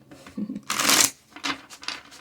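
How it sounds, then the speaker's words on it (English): Tarot deck of Edgar Allan Poe cards being shuffled at close range, with a dense burst of riffling flutter followed by a few shorter, lighter shuffles. "I already shuffled a good amount, but still going to give it a few shuffles while on record."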